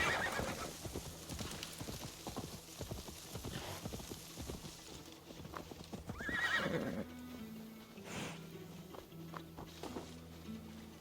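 A horse in an Assassin's Creed video game trots along with a continuous clatter of close hoofbeats, then neighs loudly midway before the hooves fade beneath a low steady drone.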